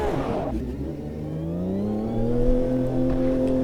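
A race car engine in a sim racing game at Long Beach, revving up with pitch climbing steadily after a gear shift, loud and close, a smooth rising whine layered over the deeper engine drone.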